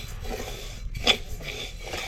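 Rice roasting in a pan for traditional Konkan jackfruit sandan gives a steady dry scraping and rustling as it is stirred, close and continuous, with one brief sharper scrape partway through.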